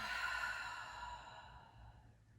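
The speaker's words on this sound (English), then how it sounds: "And then take a big exhale." A single long, soft exhale during a stretching routine, a breathy sigh fading out over a couple of seconds, close and quiet.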